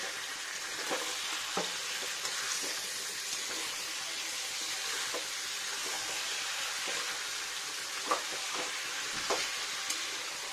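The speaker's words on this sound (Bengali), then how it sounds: "এখন শুধু কষিয়ে নেব মাংসটাকে" Chicken sautés in a pan with onion and garlic, giving a steady close sizzle and frying hiss throughout, punctuated by repeated scraping stirs of the spoon against the pan, with no voices.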